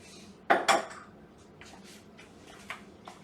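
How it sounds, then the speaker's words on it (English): Whisk clinking against a bowl while mixing instant yeast with sugar, kosher salt and warm water, heard as two loud clattering strokes followed by fainter scattered taps, close and without talk. "Give it a little bit of a whisk."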